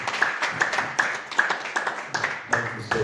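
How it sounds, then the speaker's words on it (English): Audience clapping at an award presentation ceremony, a steady crowd applause with sharp hand claps repeating through the whole stretch, moderately close and unbroken. "A round of applause for this wonderful event."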